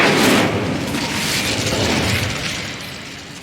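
An Incendio fire spell bursts in Hogwarts Legacy, a loud whooshing, crackling blast that swells at the start and then fades slowly as a roaring rush.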